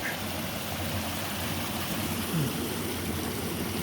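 A small waterfall-fed stream on a backpacking trail gives off a steady, even rush of flowing water with no breaks, moderately loud and continuous throughout.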